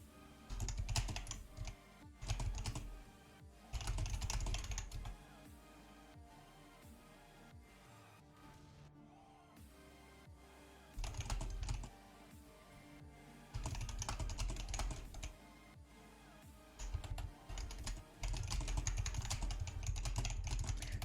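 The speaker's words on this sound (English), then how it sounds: "I was typing to the teams because it looked like the teams were swapped for a second" Bursts of rapid computer keyboard typing during an online match, clattering keystrokes in several separate runs with quieter gaps between them, close and fairly loud over faint background game audio.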